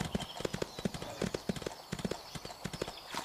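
Rhythmic clip-clop of horse hooves while riding through thicket in the game Ostwind Remastered, a steady close trot of crisp hoof falls that runs the whole time.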